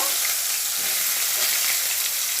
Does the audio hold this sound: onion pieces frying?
yes